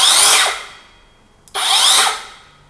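OSUKA OCS827-M1 cordless circular saw spinning up in two loud bursts, each a high whirring roar that winds down, separated by a brief pause and a click.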